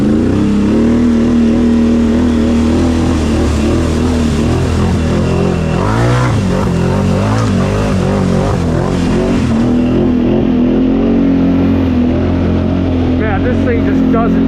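A Can-Am Outlander 850 XMR ATV, a quad over 1,000 pounds out in a field, runs with a loud, close engine that revs and rises in pitch mid-way, then settles into a steady drone.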